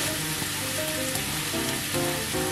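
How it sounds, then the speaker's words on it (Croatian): Onions sautéing in a pan give a steady, close sizzle that holds through the whole moment, with faint clinks and light tones over the frying and no voices. "Dok se luk bude krčkao"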